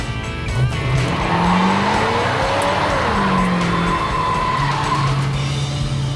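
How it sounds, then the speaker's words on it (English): A 1969 Dodge Charger Daytona performs a sustained, loud burnout, its tires squealing steadily over a roaring engine for several seconds with no break. "Good solid burnout."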